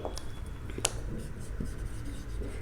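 Writing during a chemistry lesson makes a soft, continuous scratching and rubbing of a pen or marker on a surface, close and faint, with no talk over it.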